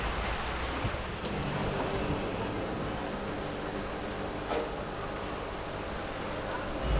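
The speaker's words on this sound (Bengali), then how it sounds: "দুপুর পেরোতে না পেরোতেই শুরু হয়ে গেল বৃষ্টি।" Steady rain from Cyclone Remal falling over Kolkata, an even, continuous hiss of drops on surfaces, moderately loud and unbroken throughout, with no voices.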